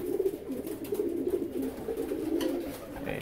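A competition songbird that recently won at Sinar Baru Madura calls in soft, repeated low cooing phrases, close and steady with no talk.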